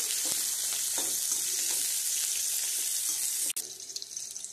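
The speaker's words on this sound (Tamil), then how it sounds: "எல்லாத்தையும் ஒரு நிமிஷம் ஃப்ரை பண்ணிக்கலாம்." Steady hissing sizzle of onion and garlic frying in a hot pan, loud and close, with a brief clatter near the end and no talking.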